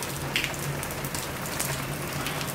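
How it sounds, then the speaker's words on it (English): Steady rain pattering on a surface, a dense continuous hiss of drops with a low hum underneath, no voices. "listen to the rain"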